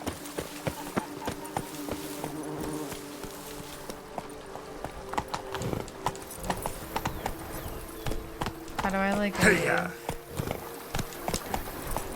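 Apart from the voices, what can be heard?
horse hooves galloping in video game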